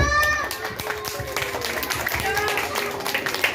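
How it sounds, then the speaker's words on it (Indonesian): An audience claps for grade 6 students at a school innovative project summit celebration; steady, moderately loud applause runs throughout beneath a person talking. "Beri tepuk tangan yang meriah buat kakak kelas 6."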